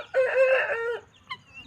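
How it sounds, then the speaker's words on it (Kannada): A single loud, close rooster crow rings out for about a second, followed by a short, fainter call. "ನೋಡಿ ಗೈಸ್, ಹುಂಜ ಮಾತ್ರ ಮಸ್ತಿದೆ"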